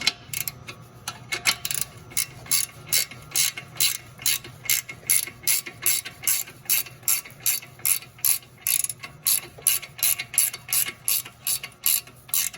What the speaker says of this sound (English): Grab your 18 wrench, which is right here.